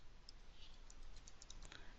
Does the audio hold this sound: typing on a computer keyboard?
yes